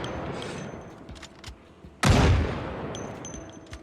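A hunting rifle fires once in Project Zomboid (build 41.78), a single loud, sharp blast near the middle that rolls off into a decaying rumble, with quieter clicks and game sounds before and after.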